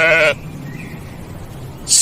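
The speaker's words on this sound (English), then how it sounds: "Sheep," A sheep bleats in one short, near bleat at the start, followed by a quiet pause and a brief higher sound at the end, with no talk over it.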